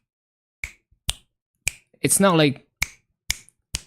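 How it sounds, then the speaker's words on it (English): Sharp finger snaps ring out one at a time at a steady, unhurried pace, six in all, close and fairly crisp, with a brief spoken phrase breaking in partway through. "Can you snap your fingers?"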